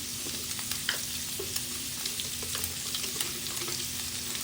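Shrimp frying in a pan for a stir-fry of lotus stems, giving a steady, close sizzle with small crackles and stirring clicks throughout, no voices.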